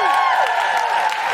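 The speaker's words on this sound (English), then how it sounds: "Can I have a big round of applause for Grace Petrie?" A live comedy podcast audience in London at a Christmas show cheers and applauds, a dense wall of crowd noise topped with sliding whoops, loud and continuous throughout.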